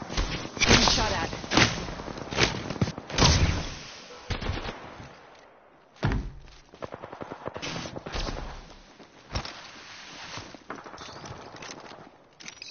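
Gunfire in a battle royale shooter: rapid bursts of close, loud automatic shots come in clusters with short pauses between them, and thuds and a voice mix in underneath.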